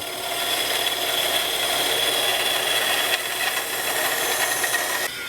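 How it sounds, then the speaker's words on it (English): A bandsaw runs steadily while cutting a guitar fretboard, a continuous close whining buzz with a slight change near the end, no talk. "So let's jump over here on the bandsaw, and I'll stay outside this line."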